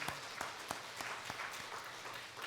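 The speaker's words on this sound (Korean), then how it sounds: "우리 박수하겠습니다" A church congregation applauds the choir after its hymn at a Sunday worship service, a steady wash of clapping with a few sharper claps standing out, moderately distant and without talk.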